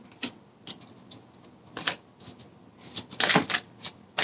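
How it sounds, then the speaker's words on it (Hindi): Tarot cards are shuffled in quick, light bursts, soft riffling clicks and flutters scattered irregularly, growing denser and louder near the end, close to the microphone. "बहुत ही शफल हो रहे कार्ड, जंपिंग कार्ड्स"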